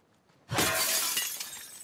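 Glass shatters loudly in The Last of Us Part 2, a single sudden crash followed by a bright tinkling spray of shards that fades over about a second, heard alone.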